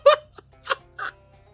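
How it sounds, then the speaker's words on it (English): Crow noise from the video game Shadows Over Loathing: four short, squawking bursts, one loud and the rest softer, spaced unevenly over a quiet low hum. "I hope you like this crow noise"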